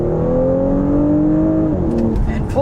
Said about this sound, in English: you can hear a little bit of a burp on the upshift from that exhaust